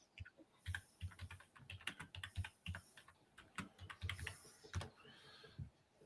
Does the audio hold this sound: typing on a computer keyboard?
yes